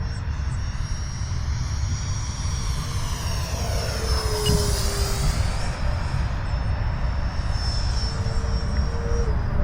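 A Freewing Mirage 2000C 80mm electric ducted fan RC jet whooshes past at a distance, a continuous airy whine that swells and fades as it passes overhead during outdoor flying.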